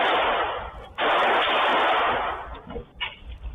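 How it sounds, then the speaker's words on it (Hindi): Gunfire outside a club in Delhi, shots fired to intimidate after an extortion demand went unpaid. A loud, sustained crackling burst fills the air, briefly breaks off, then rages on before fading into scattered softer pops. "डराने धमकाने के लिए इन्होंने ये फायरिंग"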